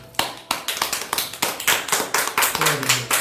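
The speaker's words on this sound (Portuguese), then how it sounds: "Vamos aplaudir o Senhor, filhos?" A church congregation claps in unison to a steady beat of sharp, loud hand claps. A voice briefly speaks underneath near the end.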